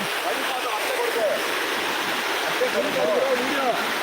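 The Kushasthali river flows with a steady, close rushing wash that never lets up, while faint voices and chirps sit under the water.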